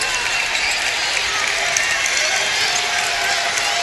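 Crowd in a Lexington gym cheering and roaring after a big tomahawk dunk at a high school boys' basketball state championship, a loud, sustained wall of noise filling the whole stretch.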